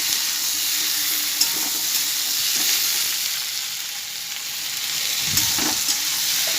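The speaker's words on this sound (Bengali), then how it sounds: "এখানে আমি দিয়ে দেবো কেটে রাখা টমেটোগুলো" Chopped tomatoes, one small and one large, go into a pan of already-fried potatoes and onions while cooking an egg curry with cauliflower, giving a steady close sizzle with occasional stirring scrapes and no talk.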